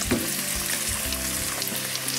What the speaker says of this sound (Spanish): Y ya rehogo la cebolla y después le pondré el tomate